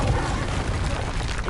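A Confringo spell blast from the Hogwarts Legacy video game bursts out as a loud, dense explosion that fills the short moment with a rumbling, crackling roar and no talking over it.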